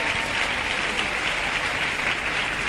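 A church congregation applauding and cheering in praise of God, a dense steady roar of clapping from a full crowd, loud and continuous throughout.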